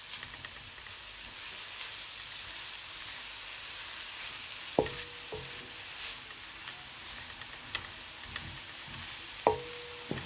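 Chicken tikka roll filling with oregano and jalapeños mixed in a hot pan gives a continuous soft sizzle and frying hiss, with a few brief knocks of a utensil against the pan.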